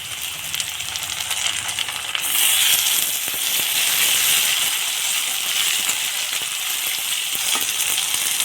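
Loud, steady sizzling of onions frying in hot oil in a pan, a dense crackling hiss that swells slightly and carries on throughout.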